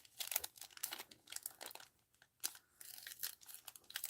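Washi tape packaging being torn and opened by hand, giving a run of close crinkling and tearing bursts with short pauses between them.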